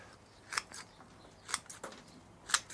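Scissors snip through citrus tree roots growing against the side of a pot, making three sharp, crisp cuts roughly a second apart along with a few fainter crunches in between.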